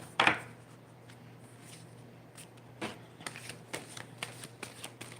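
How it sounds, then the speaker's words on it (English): Tarot cards shuffled by hand: one loud riffling burst at the start, then a run of softer, separate card flicks and taps that come in an uneven rhythm, close by in a quiet room with no talking. "I do have a little process when I shuffle, so please bear with me."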